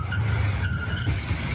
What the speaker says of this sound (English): Car slams on its brakes.